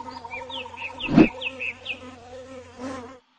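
A fly buzzes in short darting bursts close by, rising and fading over a few seconds with a louder swell near the middle.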